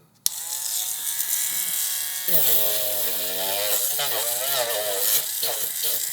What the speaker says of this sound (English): I think I need to make a little bit of room with the rotary tool to get them to fit.